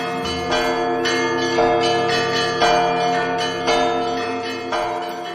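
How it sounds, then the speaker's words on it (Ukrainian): Church bells peal for Easter, several bells struck in an overlapping, steady rhythm with long ringing tones, loud and continuous, no voices. "На Великдень дзвонять дзвони звідусіль."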